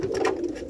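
A pigeon coos close by in a breeding loft, a low, throaty rolling call lasting under a second.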